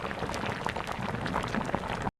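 Three liters of salted water with oil bubbling at a rolling boil in a pot for elbow macaroni, a dense steady crackle of popping bubbles close up, with no talk.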